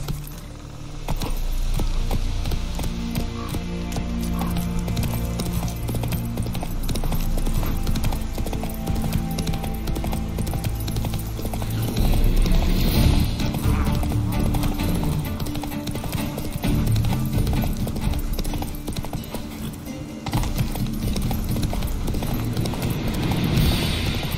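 A horse runs with rhythmic, continuous hoofbeats and jangling tack, with a brief whinny-like sound; the hoofbeats are steady and fairly close throughout.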